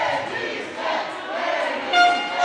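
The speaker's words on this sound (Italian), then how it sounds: "Sale il tifo della Fenice" Football fans of Fenice VeneziaMestre cheer and chant at a match against Bissuola, a swelling crowd roar that rises and falls in waves across the clip.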